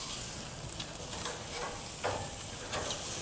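A prime tomahawk ribeye sears over open flames on a gas grill, giving a faint, continuous sizzle and crackle with a few soft pops rising from the background.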